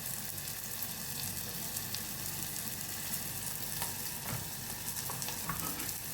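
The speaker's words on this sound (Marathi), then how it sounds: "आणि हे छान परतून घ्यायचं, जेणेकरून सगळा मसाला वगैरे हे भाजला गेला पाहिजे" Masala of coriander powder, red chilli and turmeric sizzling and frying in oil with onion, tomato and garlic in a pan for homemade veg pulao, a steady close crackle with scattered pops and stirring scrapes throughout.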